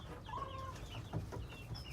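A Sicilian Buttercup hen clucks softly nearby in a backyard, a few quiet murmuring clucks and chirps over faint outdoor background.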